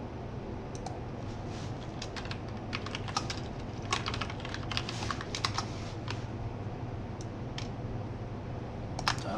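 Typing on a computer keyboard while entering text in a design program, a run of close, quick key clicks in uneven bursts over a low steady hum, with no talking.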